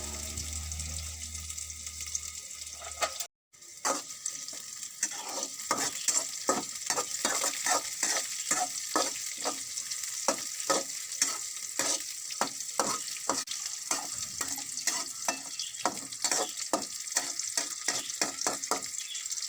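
Green chili and onion hit hot oil with crackled cumin seeds and sauté, a steady crisp sizzle broken by repeated scraping stirs of a dosa turner in the pan, preceded by a brief sharp clatter as the vegetables go in.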